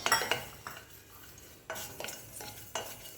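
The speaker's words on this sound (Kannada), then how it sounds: "ಸಾಸಿವೆ ಕಾಳನ್ನ ಹಾಕಿ ಒಂದು ಲೈಟಾಗಿ ಹುರ್ಕೋಬೇಕಾಗುತ್ತೆ." Mustard seeds roast in a pan, with scattered clinks and scrapes of a utensil against the metal over a faint background crackle; no voices.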